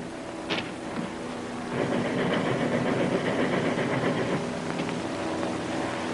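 A moving train rumbles steadily, with a low mechanical drone that swells louder partway through and then eases back.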